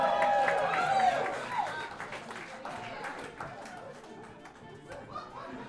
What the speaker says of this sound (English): Keep on clapping. It's going to take a while.